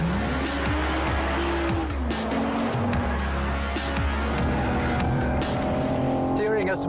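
A BMW 4 Series is driven hard and oversteers, its engine note rising and falling with gear changes while tires squeal and skid, loud and close throughout.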